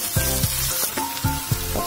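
Garlic scapes with spinach and dill fry in a pan, a steady sizzle broken by repeated stirring scrapes that rise and fall about every half second, close and fairly loud, no talking.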